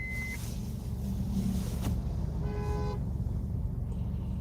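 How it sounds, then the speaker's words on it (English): A car horn honks in one steady blast of about half a second, rising over constant traffic rumble and low background noise. "they're honking at them"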